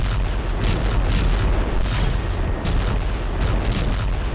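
Heavy, rumbling booms of North Korean artillery fire during a drill roll one after another, loud and continuous, with dense low-frequency thunder and no voices.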